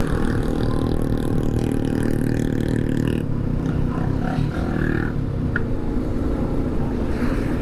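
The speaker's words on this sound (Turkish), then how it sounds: "Abi avokadoları yüklemiş arabaya," Engine of a vehicle loaded with avocados idles loudly and steadily, then the rumble shifts and eases slightly as it pulls away, a continuous roar on a green hillside road in Kenya.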